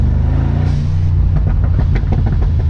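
A Brabus G900 Mercedes G-Class engine revving hard and loud, a deep growl that rises at first, then breaks into rapid popping and crackling bursts as it downshifts.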